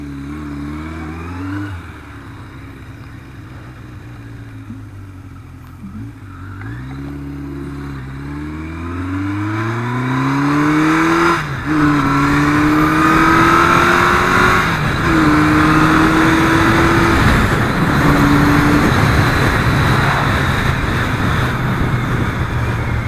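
Yamaha XJ750 motorcycle fitted with a 4-into-1 Marshall exhaust, revved repeatedly: the engine note climbs and falls in several sweeps, growing louder and harsher in the second half, close by with no talking.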